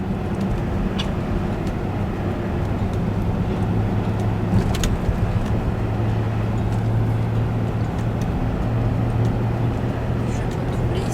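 A family car cruising at low speed behind a truck, its steady engine and road rumble droning continuously throughout, with conversation from the people inside heard over it.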